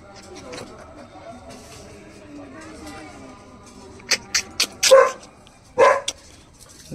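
Dog barking outdoors in a village, several short sharp barks in quick succession near the end, preceded by quieter murmuring voices and background noise.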